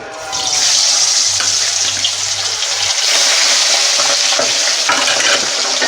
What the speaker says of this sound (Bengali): তেলটা আমার গরম হয়ে গেছে আমি এবার মাছটাকে ভেজে নেব